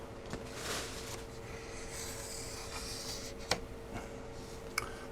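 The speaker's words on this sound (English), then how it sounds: "I'm just going to cut this away from my pattern and just cut it away from the sheet, because this is a 3-foot sheet of balsa" A knife blade scores a 3-foot sheet of balsa wood on a workbench during a model rocket build, giving faint, steady scraping strokes with a couple of sharp little ticks, and no talking.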